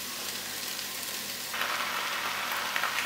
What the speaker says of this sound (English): I'm now going to add the mince.